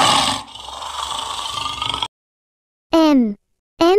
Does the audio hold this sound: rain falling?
no